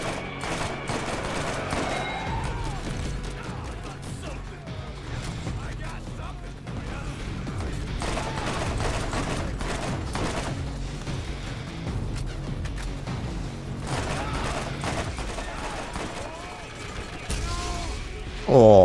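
Gunfire from a Borderlands shootout, dense bursts of shots and mechanical clatter running through most of the stretch under game music and effects, with a sharp loud burst right at the end.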